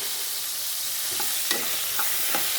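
Tomatoes being sautéed in a pan, a steady broadband sizzle with a few soft spoon scrapes and taps against the pan.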